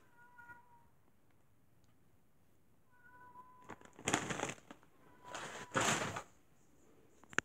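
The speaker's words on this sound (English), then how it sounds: "there's a female cat meowing outside" A female cat meows outdoors, a few faint calls early on, then three louder, drawn-out yowls in close succession.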